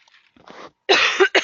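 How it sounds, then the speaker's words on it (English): A short burst of harsh coughing, a few faint hacks first and then two louder, rough coughs close by, with no talking. "I'm going to have a coughing attack."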